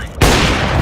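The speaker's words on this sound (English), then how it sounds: "Deploying flashbang." Gunfire and a flashbang grenade burst in Counter-Strike 2, a sudden loud blast followed by continuous dense, crackling combat noise with no pauses.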